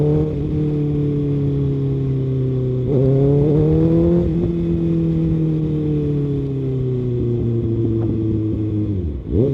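A 2025 Kawasaki ZX6R motorcycle accelerating on the road on a hot day in Texas, its four-cylinder engine droning loud and steady with rising pitch through gear changes, heard close with wind noise.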